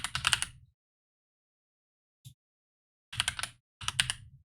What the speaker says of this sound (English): I was typing Aerodactyl